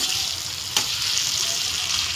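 Ingredients for paneer chilli sautéing in a pan, a constant hissing sizzle with one brief knock of a utensil, with no talk.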